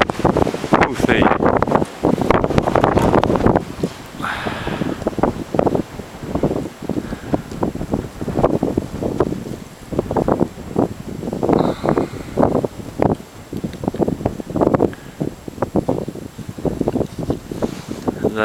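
Gusty winter wind in a village batters the microphone with loud, choppy bursts, strongest at the start, then continuing in uneven rumbling pulses.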